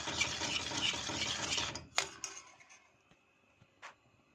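A spoon stirs a thick cream mixture with chopped dates in a bowl for kunafa, giving a close scraping, swishing sound for about two seconds, then a sharp clink and a few faint taps as it stops.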